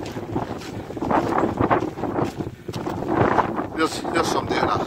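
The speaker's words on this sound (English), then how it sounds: "because it's pretty windy down at this bit." Strong, gusty wind on a Scottish beach buffets the microphone in heavy roaring rushes, with water lapping nearby and faint voices underneath.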